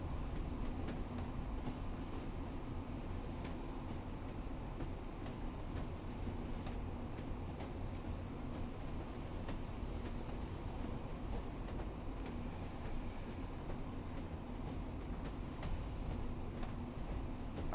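A train rolling over jointed, non-welded track on the Blackpool branch line in Train Sim World 4, a steady loud rumble of wheels and carriage noise running throughout with no speech.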